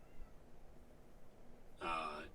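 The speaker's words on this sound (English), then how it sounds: "Sounds like someone's abusing a cat in my house." A cat meows loudly once inside a house, a short drawn-out cry near the end, against quiet background room noise.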